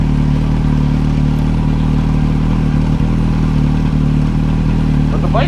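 Yamaha R1 motorcycle engine idling steadily after a fuel pump and relay repair, a continuous low rumble held at an even level throughout with no talking.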